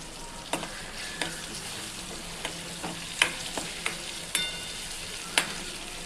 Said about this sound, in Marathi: छान तळून घेऊ